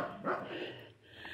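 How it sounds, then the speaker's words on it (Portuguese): A dog barks at passers-by on a walk, a couple of short, somewhat distant barks with a whimpering edge, fairly faint. "Todas as vezes que a gente passa aqui, o cachorro quer atacar a gente."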